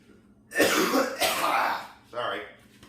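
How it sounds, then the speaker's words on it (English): One person coughs and clears their throat in a few harsh bursts, close to the mic, separated by brief pauses and set against a quiet background. "back to my coughing"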